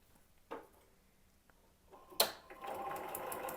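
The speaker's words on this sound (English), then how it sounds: "Time to take this to the machine and get the last 2 sides sewn." A sewing machine stitches the last two sides of a square-in-a-square foundation paper pieced quilt block. A few quiet handling clicks come first, then a close, steady whirring run of stitching fills the final second and a half.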